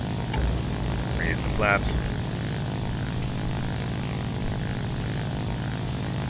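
Propeller drone of a Fw-190 fighter taking off in War Thunder, a steady low engine hum throughout at moderate loudness, with a brief spoken line near the start.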